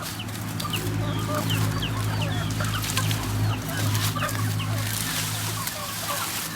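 Several free-range chickens cluck and chatter close by in a steady busy stream while eating leaves, with a low constant hum underneath.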